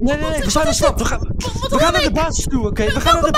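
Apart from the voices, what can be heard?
No everyday noise stands out behind the speech.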